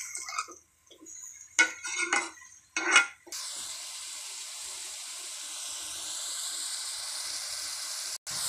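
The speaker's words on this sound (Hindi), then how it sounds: "अब ये देखें, हमारा जो सालन है उसे अच्छी तरह से हम भून लेंगे।" A spoon clatters and scrapes in a pan of aloo gobhi curry in a few quick bursts, then a steady sizzling hiss of frying carries on, with one more brief knock near the end.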